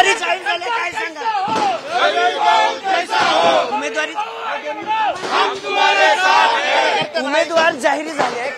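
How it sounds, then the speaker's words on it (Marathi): Congress party workers celebrate a candidate announcement with loud crowd shouting and chanting in rising and falling waves, a dense excited babble of many voices close up throughout. "कार्यकर्त्यांचा जल्लोष"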